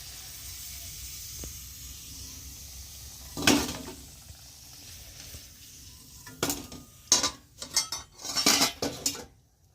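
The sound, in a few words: lifting fried potatoes out of the pan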